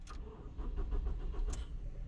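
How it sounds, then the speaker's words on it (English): A car with a failing start cranks in short uneven bursts, the starter churning and sputtering without catching, close by and fairly quiet, with a brief metallic rattle at the start and again partway through. "this car, it's not even cold and it can't start."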